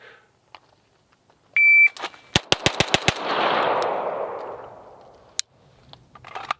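A Staccato XC pistol fires six quick rounds at a target on a timed shooting run, each shot a sharp loud crack. A shot-timer beep sounds just before the first round, and a short ringing decay follows the string.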